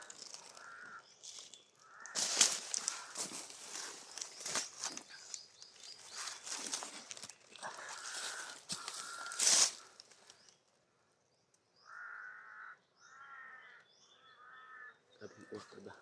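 Several crow caws in short repeated bursts, loud and fairly near, scattered over about sixteen seconds among rustling and other noise, with a gap of near silence midway.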